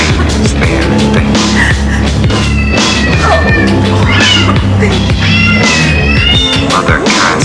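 Several cats, including a kitten, meow and caterwaul repeatedly in loud, overlapping cries over a continuous layer of dark, low music.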